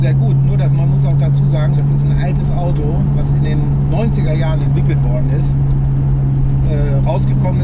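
A 560 PS Porsche 996 Turbo tuned by Techart drives on, its engine a steady, deep cabin drone running continuously beneath someone talking.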